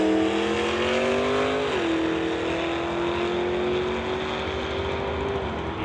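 A 2020 Mustang GT500 and a Dart launch down a drag strip toward the quarter mile, a loud sustained engine roar that climbs in pitch, drops briefly at a shift, then holds high and steady.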